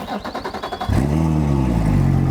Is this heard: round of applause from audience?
no